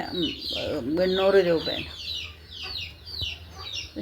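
A mother hen with her brood of twelve chicks clucks close by, soft repeated clucks and high peeps continuing under a voice speaking briefly in the middle.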